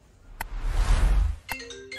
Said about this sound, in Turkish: Lanet gelsin, telefonu çaldı.